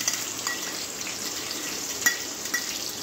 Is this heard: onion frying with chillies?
yes